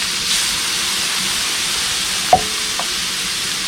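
Green peppers frying in a pan with butter and fat, a steady soft sizzle and hiss throughout with one brief clank of a utensil midway.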